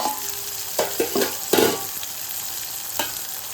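Tomato moong dal varan is stirred in a pan on the stove, giving several scraping, sloshing strokes over a soft sizzle, each stir distinct and close, with no voices.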